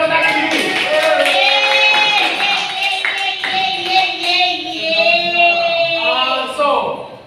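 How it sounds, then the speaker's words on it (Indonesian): Hands clap in applause in a classroom while several voices talk and call out loudly over it, the clapping thinning as the voices continue. "Berikan tepuk tangan dulu."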